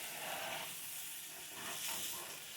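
Blanched broccoli sautéing in a pan, a steady faint hiss and sizzle that swells slightly at times, with no talking.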